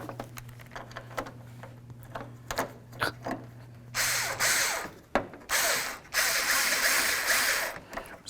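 Bolts being fastened on a 1992-99 GMC K1500 headlight assembly: scattered ratchet clicks and faint mechanical taps, then loud bursts of a power driver whirring in and stopping, close up.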